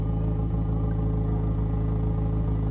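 An Abarth 595 Competizione engine idles steadily with a low, throaty rumble, close by and continuous, with no voices.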